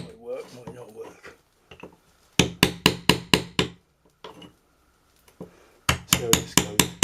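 A metal crowbar is wedged in and worked against a nail on a light pendant, producing a rapid series of loud, sharp knocks in two bursts, with brief talk before them.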